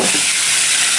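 Marinated beef sizzles and bubbles in a hot pan, a loud, close, continuous frying hiss with no voices.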